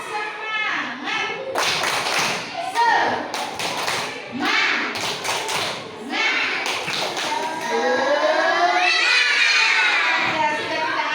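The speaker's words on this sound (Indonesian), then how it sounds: "coba tepuk tangan dulu buat kita semua" Classroom of children clapping hands together on a teacher's cue, a busy burst of claps mixed with children's shouts and chatter, with a teacher's voice talking over parts of it.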